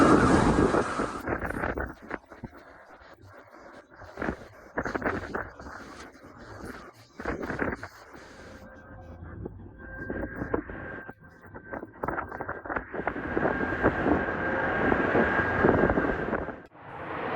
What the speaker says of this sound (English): boats, including sailboats and a large yacht, were tossed about by dangerously high winds and massive waves.